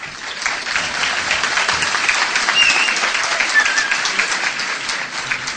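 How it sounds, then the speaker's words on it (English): Sustained audience applause fills a debate hall, a dense, continuous wash of many hands clapping at steady loudness that swells slightly in the middle before easing. "I will ask that you keep your clapping and your cheering"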